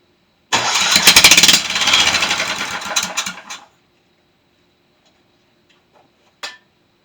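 A seized-up Tecumseh small engine cranks with rapid ticking and sputtering for a few seconds, then cuts off into silence, followed by a brief faint clatter.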